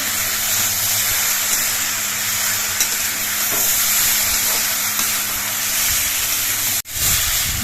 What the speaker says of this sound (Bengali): এবার এর মধ্যে ভেজে রাখা ঢেঁড়সগুলো দিয়ে দিচ্ছি ঢেঁড়স দিয়ে সব কিছু দিয়ে নিয়ে মিশিয়ে নিতে হবে